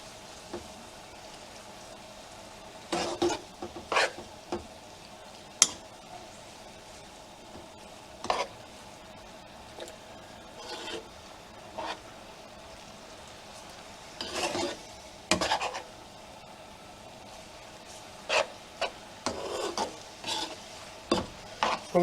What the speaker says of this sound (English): Want to make sure we coat the pasta with all the sauce to nice flavors.